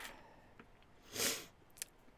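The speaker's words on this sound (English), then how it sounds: "Excuse the snifflings, but I can't do much about that." A single close, faint nasal sniffle from someone with a runny nose, a short breathy burst followed by a tiny second sniff, alone in a quiet room.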